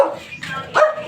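A dog barks twice in quick succession, short sharp yelps close by and fairly loud, separated by a brief pause.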